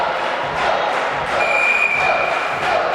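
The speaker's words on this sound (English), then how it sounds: "Bit of voice here from the Echidnas crowd." Echidnas supporters cheering and shouting at a women's volleyball friendly, a steady roar of crowd voices with a whistle-like tone, loud and continuous in an indoor hall.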